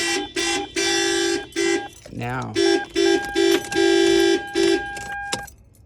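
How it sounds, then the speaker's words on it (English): A faulty factory alarm on a 1996–2002 Toyota 4Runner blares nearby in loud, repeated horn blasts. A brief warbling siren tone breaks in partway through. "the alarm is not going crazy. All right, so now, oh, it is going crazy."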